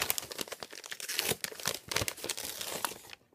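Rose-patterned wrapping paper is carefully peeled and crinkled off a gift in dense, close crackling and tearing bursts that stop abruptly at the end, with no talking.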